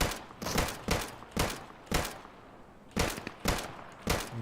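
Gunfire in the video game Deadside comes as about eight sharp, loud shots in an uneven rhythm, some closely spaced, with short quiet gaps between them and no speech.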